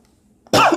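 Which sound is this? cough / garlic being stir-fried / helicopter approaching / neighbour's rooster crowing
cough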